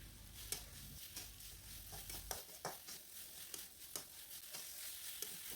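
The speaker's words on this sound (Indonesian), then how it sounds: "Ditumis dulu bumbu urapnya ya teman-teman" Urap spice paste stir-fried in leftover oil: a continuous close sizzle punctuated by regular scraping and stirring strokes from a spatula, with a low hum that drops away partway through.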